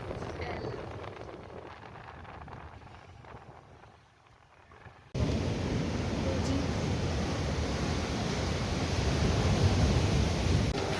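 Steady loud roar of waves and wind at Cherai beach, with the sea high and covering the shore; quieter for the first few seconds, then a sudden full, continuous wash of surf noise with no talking.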